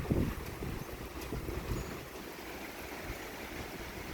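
A backyard flag flaps and whips in strong thunderstorm winds, a steady low rush of gusting air with faint irregular fluttering snaps, fairly distant and without talk.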